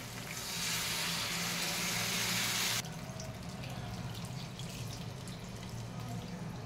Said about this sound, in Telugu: ఈ స్టేజ్లో మనం చింతపండు పులుసు వేయాలి